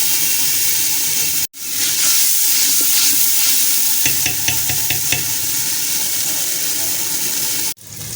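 Spice masala fries in a pan for beef paya, a loud continuous sizzle with stirring scrapes and a run of quick spoon clicks, broken by two sharp cuts into silence.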